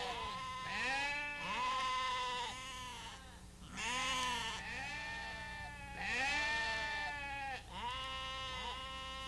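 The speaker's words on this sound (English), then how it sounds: "The sheep are at first unattentive, but gradually gain interest as the relentless shears move closer and closer to their tail feathers." Sheep bleat repeatedly and loudly at close range, several overlapping wavering calls in a steady sequence, waiting to be sheared in England.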